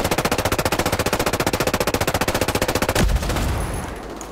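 Rapid automatic gunfire in the video game Ghost Recon Breakpoint aimed at a turret, a dense unbroken burst of loud evenly spaced shots lasting about three seconds, then stopping abruptly into a fading echoing rumble.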